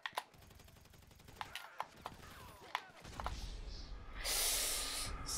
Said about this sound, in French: On tire à travers le sapin, on les voit pas.